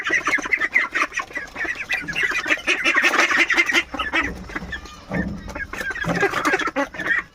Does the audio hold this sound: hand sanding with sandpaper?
no